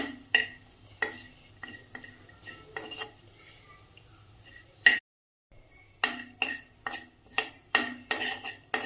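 Dry red chilies, cumin and coriander seeds are roasted in a dry pan for urad dal chutney, a spoon clinking and scraping against the metal in regular strokes, close and clear, with a short pause midway.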